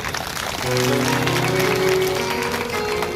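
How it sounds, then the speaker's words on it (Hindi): Listeners at a Hindu religious discourse during a Shrimad Bhagavat Katha applaud in a dense, continuous wash of clapping, while sustained musical tones, likely a harmonium, play underneath. "एक बार उस कृपा के लिए तालियां बजाना चाहिए आपको।"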